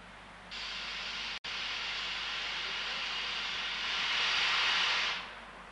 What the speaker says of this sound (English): There we see Bahamas quietly getting steam up.